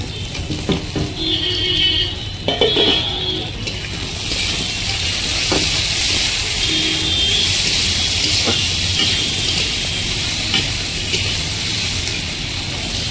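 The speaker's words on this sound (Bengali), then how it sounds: "কিছুটা সময় নিয়ে হালকা আঁচে একদম ভেজে নিচ্ছি।" Tomato and onion frying in a pan over low heat, a steady close sizzle with occasional stirring scrapes and clinks throughout.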